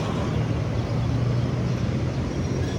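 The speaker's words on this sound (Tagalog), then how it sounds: "Na traffic na jud." Downtown Davao street traffic gives a steady low rumble of passing vehicles at constant loudness, with no speech.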